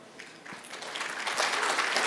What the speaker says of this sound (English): I didn't need to tell them to clap for you.